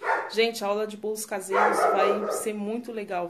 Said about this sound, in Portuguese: desculpa o cachorro